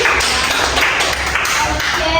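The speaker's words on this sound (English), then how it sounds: "give applause for Ruby and Shirley" Classroom applause for two students, Ruby and Shirley, at a microteaching session: a steady, dense patter of clapping hands filling the room for a couple of seconds, fairly loud and close, with no break.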